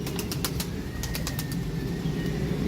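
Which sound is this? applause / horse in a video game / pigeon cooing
pigeon cooing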